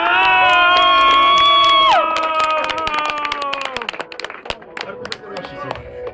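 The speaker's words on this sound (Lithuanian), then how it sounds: "Plojimai jai!" A crowd cheers and claps for a contestant named Kristina at a Kuršių kovos competition. Sustained horn-like tones open the moment, then loud scattered hand claps and cheers crackle on and gradually thin out.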